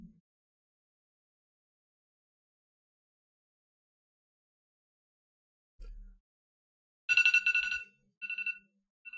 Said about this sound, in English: It's 10:14, my 10:15 alarm.